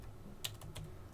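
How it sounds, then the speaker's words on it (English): Several faint, quick keystrokes on a computer keyboard, with one sharper click standing out among a few softer taps in a quiet room. "I'm going to type in"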